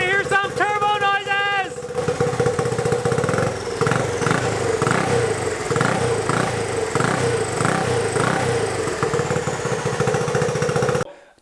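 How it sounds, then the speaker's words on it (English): Turbocharged EFI 660 lawnmower engine runs loud and steady with a rhythmic pulsing chug and turbo whine, after a short burst of voice-like tones at the start, then cuts off abruptly near the end. "Y'all wanna hear some turbo noises?"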